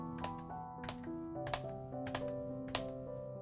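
Computer keyboard keys clicked while playing the dungeon crawler Dice 'n Goblins, several sharp taps in pairs over steady layered game music, close and crisp.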